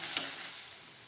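Boiled raw banana pieces frying with spice powder in a pan, a short, fairly quiet sizzle with one brief scrape of stirring near the start, no voices present.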